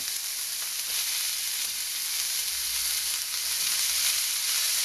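Green beans sizzling steadily in hot oil in a pan with pork, a constant bright frying hiss that holds evenly throughout with no talking.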